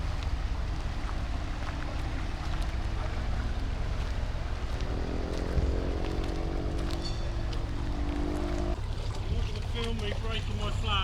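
Motorboats cruise past on the Norfolk Broads, their engines giving a steady low hum under constant wind noise, with a rising whine as one passes closer, then a change in tone near the end.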